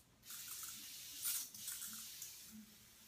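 Soft hissing bursts of thermal water mist sprayed at the face from a distance, several short quiet sprays in a calm indoor room.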